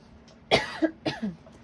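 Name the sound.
coughing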